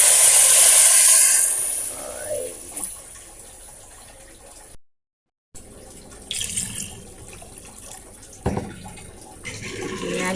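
Water poured from a tap into a cooking pot for chicken feet porridge, a loud rushing hiss at the start that fades, followed by quieter kitchen clatter and handling noises.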